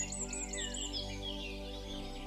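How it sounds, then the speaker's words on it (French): Faint bird song warbles in the high range over a steady low hum, a few chirping phrases, distant and soft, in a mossy forest of tall trees. "Tu entends le chant d'un oiseau"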